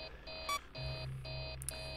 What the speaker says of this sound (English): Before the alarms start going off on me.